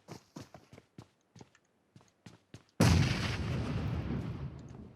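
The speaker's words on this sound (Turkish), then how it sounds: "Bomba attım" Grenade blast in the mobile shooter PUBG Mobile: a run of quick footstep taps, then one loud, close boom whose rumble slowly fades out.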